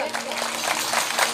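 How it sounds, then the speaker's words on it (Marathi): An audience at a kirtan claps together in a dense, continuous patter of many hands, fairly close and lively, with voices mixed in. "एकदा तुमच्या हातात टाळ्या वाजवतील का"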